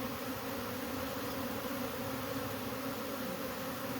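Honey bees swarming onto a fence during removal of a hive from a cable box, a dense, steady buzzing hum throughout, fairly faint and continuous with no talking.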